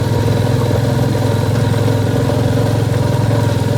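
A vehicle engine in first gear labours on the rough, rocky road of Sach Pass in the Pangi Valley, Chamba, making a loud, steady low drone with an even pulsing throb and no break.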